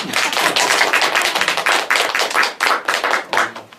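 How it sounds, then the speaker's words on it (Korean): An audience bursts into a round of applause: dense, continuous clapping from many hands, loud and close, with no speech over it. "박수 한 번만 치는데요."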